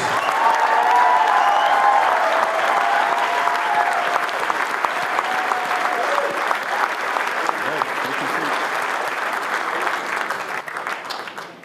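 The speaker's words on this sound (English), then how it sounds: "a round of applause for our 2018 recipients of the Shattuck Awards" An audience at an evening public service awards ceremony applauds the 2018 award recipients, producing sustained, loud, even clapping across a large hall that holds steady throughout and fades slightly toward the end.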